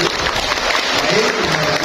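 Audience applause at a BKKBN community event in a village hall in Kasiyan, Puger: steady, moderately loud clapping from a crowd, continuous for about two seconds.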